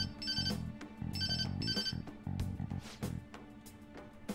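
Telephone ringtone in a video game, sounding as a repeated electronic ring in bursts over a low thumping game soundtrack, loud and close.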